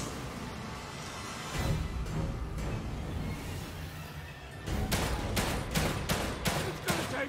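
Gunfire in the survival horror game The Evil Within 2: a run of sharp shots over a dark ambient background, becoming a fast series of loud cracks toward the end.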